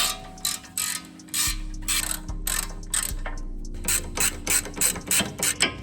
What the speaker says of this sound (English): We're going to start the rest of these coilover bracket bolts